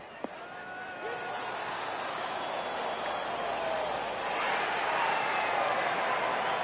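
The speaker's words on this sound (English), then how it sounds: "You don't need much to fire up this crowd, and that one will get them on their feet." A golf gallery roars and cheers after a shot, a crowd swell building and holding loud, with a sharp impact near the start and a commentator's voice over it.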